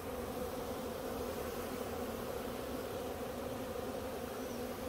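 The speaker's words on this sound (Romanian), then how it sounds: "Plin de albină." Honeybees around a hive make a steady, dense buzz that fills the whole stretch at a low, even level, with no voices over it.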